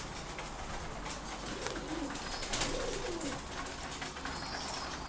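A pigeon suffering from a severe cold affecting one eye gives soft, low coos indoors, faint beneath a loud, steady hiss of background noise.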